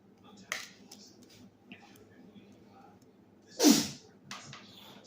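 One loud, sharp sneeze bursts out near the end, following a smaller sniff or click earlier, against a quiet room background.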